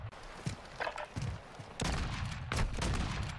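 Gunfire in Call of Duty, quiet scattered shots early, then two louder bursts of rapid fire with footsteps and game ambience.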